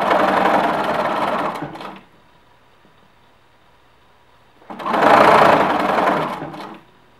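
Sewing machine stitching a knit V-neck neckband on a T-shirt, two loud rapid whirring runs separated by a quiet pause, close by with no talking.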